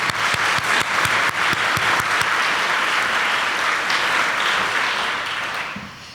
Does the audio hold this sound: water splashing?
no